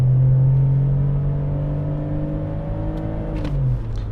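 A BMW X3 2.5i (E83) engine roars steadily under load, a deep sustained rumble with rising tone as it accelerates, close and loud, easing off near the end.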